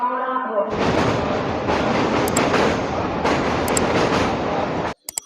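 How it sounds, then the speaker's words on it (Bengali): A Medinipur local passenger train rumbles and rattles steadily along the rails, a loud, continuous roar with a brief voice at the start and a sudden drop near the end. "ট্রেনে করে যেতে যেতেই দেখতে পাচ্ছ আমরা সাড়ে দশটার মেদিনীপুর লোকালে যাচ্ছি"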